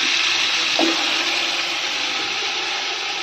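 Water is poured into a pot of mutton dum biryani with whole garam masala, green chillies, mint and curry leaves, a steady, loud rushing splash that continues throughout.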